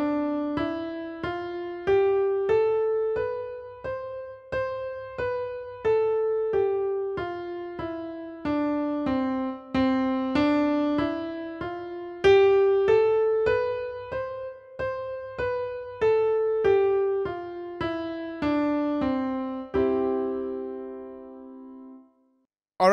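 Keyboard plays a looping finger exercise, an even stream of single notes rising and falling in a steady rhythm, ending on a held note; clear and close with no talking.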